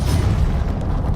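A Confringo fire blast spell in the Hogwarts Legacy video game, a loud, dense, low booming burst that rumbles steadily throughout with no gap.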